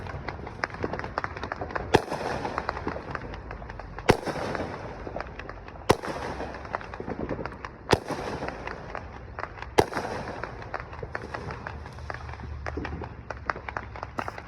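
Outdoor Fourth of July fireworks explode in sharp, loud bangs about every two seconds, with crackling and popping filling the gaps between the main blasts.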